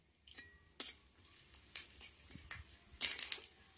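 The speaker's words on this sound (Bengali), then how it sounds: "এবারে জিরে আর কারি পাতাটা ভাজা হয়ে গেছে" Cumin seeds, asafoetida and curry leaves frying in hot oil in a home kitchen, with a faint steady sizzle broken by sharp crackles and pops and a few spoon scrapes.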